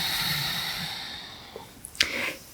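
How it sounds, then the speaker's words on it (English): Slow breathing during a stress-relief yoga session, one long airy exhale followed by a brief sharp snort-like inhale, close and quiet over a steady background hiss. "listen to the sound of your breathing"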